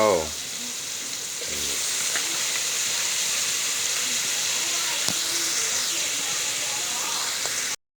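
Pork frying in a pan for a stir-fry with snow peas and garlic, a loud steady sizzle and hiss that holds throughout after a brief clatter at the start, ending abruptly.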